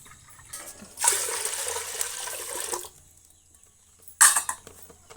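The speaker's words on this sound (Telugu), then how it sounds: "ఈ లీటర్ పాలకి లీటర్ నీళ్ళు పోసుకోవాలండి" Water is poured into a litre of milk in a home kitchen, a splashing pour of about two seconds followed later by a short second splash and clink.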